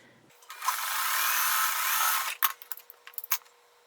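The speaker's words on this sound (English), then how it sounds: "we're sewing them together" A sewing machine stitches two quilt fabric bricks together in a loud, even whir that runs for about two seconds, then stops and gives way to a few quick mechanical clicks and knocks.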